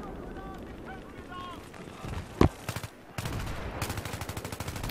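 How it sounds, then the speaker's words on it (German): Battlefield 3 automatic gunfire gives covering fire in rapid, loud bursts, including one sharp louder shot and a long sustained stream near the end, with voices talking over parts of it. "Gib euch Deckungsfeuer."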